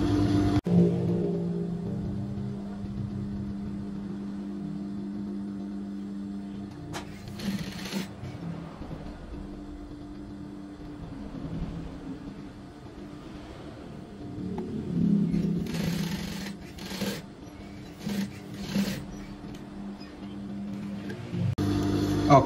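A sewing machine runs in long steady stretches while stitching a slit (bobok) pocket, with a low continuous motor hum, brief pauses and a few clicks near the end.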